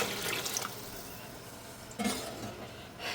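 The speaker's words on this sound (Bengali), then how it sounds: "এখন আমি এর মধ্যে দিয়ে দিচ্ছি কুসুম গরম পানি" Lukewarm water pours into a pot of already-fried pulao rice in a home kitchen, making a soft, fairly faint splashing and gurgling pour with a couple of brief louder bursts.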